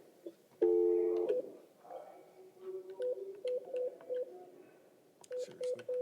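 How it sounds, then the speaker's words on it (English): Telephone keypad dialing to reach a private attorney from a bond court: an opening double tone, then a rapid run of short touch-tone beeps in uneven bursts, clear and alone with no talk. "All right, Mr. Perez, I'm gonna try to get your private attorney on the phone."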